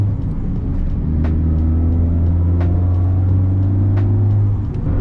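A 500-horsepower big-turbo Honda Civic Type R runs with a steady, loud engine drone and a high turbo whine layered on top, with no talk over it.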